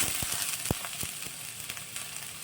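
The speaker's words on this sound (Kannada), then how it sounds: "ಈರುಳ್ಳಿನ ಸ್ವಲ್ಪ ಫ್ರೈ ಮಾಡ್ಕೋಬೇಕು. ಮೀಡಿಯಮ್ ಫ್ಲೇಮಲ್ಲಿ ಇಟ್ಕೊಂಡು ಚೆನ್ನಾಗಿ ಫ್ರೈ ಮಾಡ್ಕೊಳ್ತಾ ಇದ್ದೀನಿ" Finely chopped onion frying with garlic and ginger over a medium flame in a pan for raw banana manchurian, a steady close sizzle with a few sharp crackles and light stirring taps.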